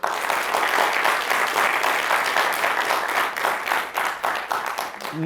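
An audience at a comedy sketch show bursts into sustained, dense applause, a close wash of many hands clapping that thins slightly toward the end.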